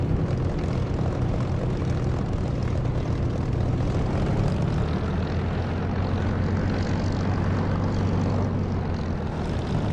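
Steady, loud drone of an aircraft engine and propeller in the DCS flight simulator, a plane rolling onto the runway with a constant engine roar throughout and no talking.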